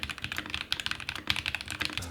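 Rapid typing on an extremely cheap $19 budget mechanical keyboard modded with added case foam, a steady run of crisp, close keystrokes with no talking.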